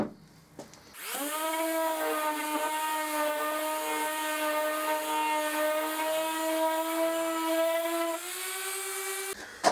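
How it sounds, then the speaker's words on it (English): An orbital sander sanding a walnut box whirs steadily for about seven seconds, starting up abruptly and cutting off near the end, with a high buzzing whine. "I can take it all off with the orbital sander"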